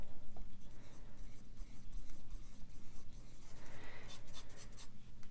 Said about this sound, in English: you could probably hear that you do have some texture to the page